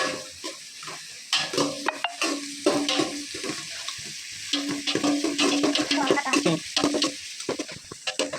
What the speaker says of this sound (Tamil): இப்போ சைடில் கருகுது பாரு கிண்டு ஒரு கிண்டு சீக்கிரம்